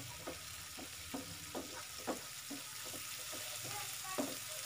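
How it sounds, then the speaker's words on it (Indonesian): Chilli spice paste sautéing in a pan for tofu snacks, a steady sizzle under repeated scraping strokes of a spatula stirring at an even rhythm, fairly close and moderately quiet. "Ini tumis sampai bumbunya harum."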